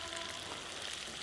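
Sliced onion goes into a pan of chicken pieces that have cooked dry, for a chicken omelette shawarma filling, giving a steady, soft, close frying hiss throughout with no voices.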